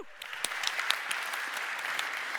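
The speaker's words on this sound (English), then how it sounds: "Round of applause to Luca, please" A conference audience at Droidcon Italy applauds a speaker, dense sustained clapping with sharp individual claps standing out, fairly close and steady throughout.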